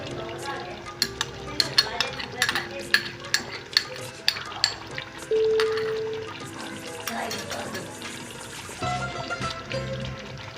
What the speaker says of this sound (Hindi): अब इसमें मैं डालती हूँ दही।